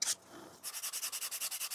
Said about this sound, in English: I can just sand it flush